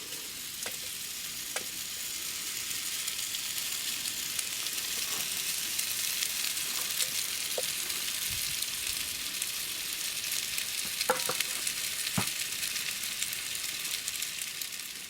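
Food sizzles and crackles steadily in a quickly heated frying pan on a stove in a tent, a loud continuous hiss with occasional sharp pops and clicks.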